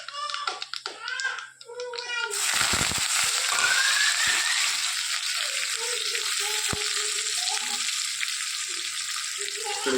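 A kid talks briefly, then onion, tomato and curry leaves drop into hot ghee tempering with a sudden loud burst of sizzling that settles into a steady, close hiss, with faint voices underneath.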